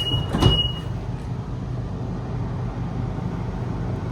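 A train pulls away in the North Shore Line train simulator game, a steady low rumbling roll of the carriages with a brief higher squeal and hiss near the start, continuous and fairly loud.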